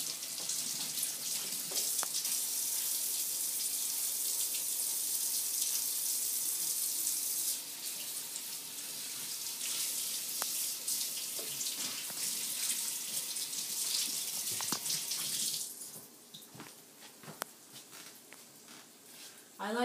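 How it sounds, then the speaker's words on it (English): Steady hiss of water running from a tap for hand washing in a home kitchen, continuous and fairly close for most of the stretch, then cutting down to quieter clinks and faint rustling near the end. "I'm going to wash my hands."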